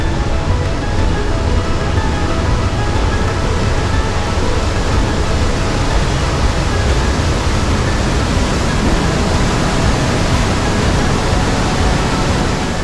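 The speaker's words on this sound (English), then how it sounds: "get right up close to the roaring glacial water." Roaring glacial meltwater thunders through Johnston Canyon right beside a rock tunnel, a loud, steady broadband rush that never lets up from start to finish, with no voices over it.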